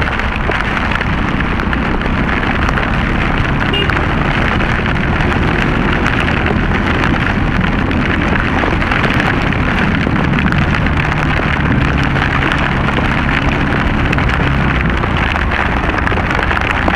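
Heavy rain pours down during a storm in Istanbul, a dense, loud and steady roar of water hammering surfaces that continues without a break for the whole stretch, with no voices.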